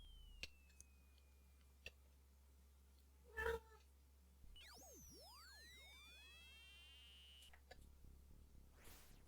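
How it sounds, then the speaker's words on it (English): A faint cat meow from a small house cat, brief and distant, amid sparse ticks and swooping electronic tones of a Commodore 64 game. "Why is my cat so loud?"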